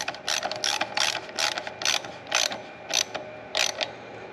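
A ratchet wrench snugs a bolt on a small engine carburetor, giving rapid bursts of sharp metallic clicking in about eight short strokes, close and loud with brief pauses between, no talk.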